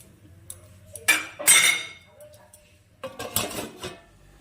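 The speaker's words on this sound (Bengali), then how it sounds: "এবার আমি ঢেকে দিব।" Metal lid clattering onto a cooking pot of fish curry with drumsticks and potatoes, a few sharp clinks and rattles in two bursts, close and fairly loud in a home kitchen.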